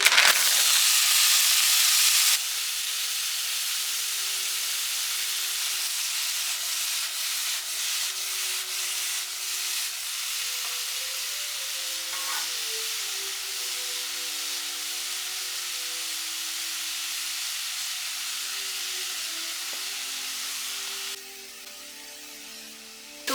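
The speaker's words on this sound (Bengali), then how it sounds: "পনিরের যে আইটেমটা করছি তার জন্য আমি তেল দিয়েছি তেল গরম করে নিয়েছি" Hot oil in a pan for a paneer dish, a steady broad hiss and sizzle that stays even for about twenty seconds before dropping off near the end, with no talking.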